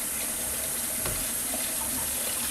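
Hot water runs steadily from a tap into a measuring cup to rinse out honey, a continuous close hiss and splash that stays even throughout, with no voices.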